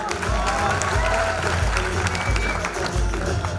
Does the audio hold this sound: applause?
yes